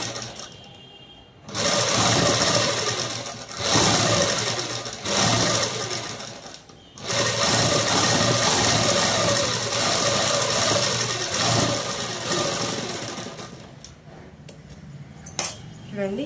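A sewing machine runs in long continuous bursts, stitching folded fabric on canvas for a lehenga-style long frock; the close, busy motor whir pauses briefly between runs and fades to quieter handling near the end.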